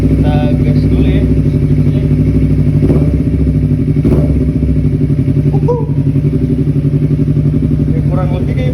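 A Honda CBR250RR motorcycle engine revs loudly and continuously up close, its throttle blipped repeatedly with a rough, clattering idle rhythm throughout.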